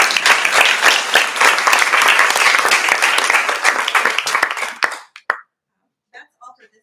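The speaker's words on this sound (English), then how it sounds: "Can you guys just give the CSD students one more round of applause?" Audience applause for student practicum presenters in a university classroom session, steady and dense for about five seconds before stopping abruptly and leaving a few isolated claps and faint sounds.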